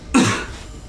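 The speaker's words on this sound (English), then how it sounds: "That's why I'm coughing" A single loud, close cough, a sharp burst that tails off quickly into quiet room tone.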